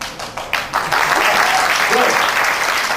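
Audience applause at a startup bootcamp event in Dhaka, beginning with a few scattered claps and swelling within a second into steady, dense clapping from a crowd that carries on to the end.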